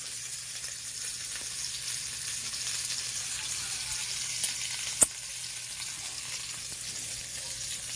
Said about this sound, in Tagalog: Prito po tayo ng isda.